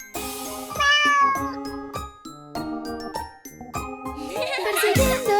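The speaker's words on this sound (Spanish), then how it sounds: "¡Wow! ¡Un pequeño gato! Miau, miau, miau, miau" A small cat's meows ring out in a children's song, repeated bright mews over chiming, tinkling music, loud and close.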